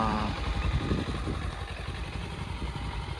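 A Kawasaki Ninja 300 motorcycle idles nearby outdoors, a steady low engine rumble with light mechanical clatter, holding even throughout without revving or speech.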